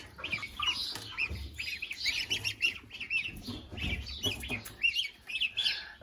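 Many small baby geese peep and chirp continuously, high and close, their overlapping calls forming a busy chorus.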